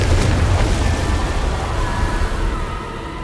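Confringo spell explosion in Hogwarts Legacy, a loud rumbling blast that rolls on and slowly fades, heard alone.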